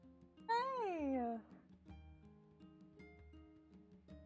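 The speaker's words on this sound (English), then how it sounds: "He's meowing from the bed," A single drawn-out meow rises and falls over about a second, fairly loud, followed by quiet room noise.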